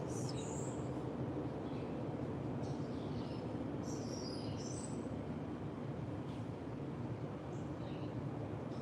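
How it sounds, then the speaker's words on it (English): Birds sing outdoors in a city in the morning, faint high chirps scattered over a steady, loud bed of traffic and urban rumble. "Listen to those birds, though."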